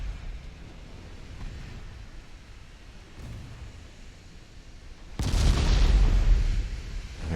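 Warship broadside fire in the naval game Ultimate Admiral Dreadnoughts, with low rumbling booms over a dull roar, one faint thud midway and then a heavy, louder blast that swells and lingers.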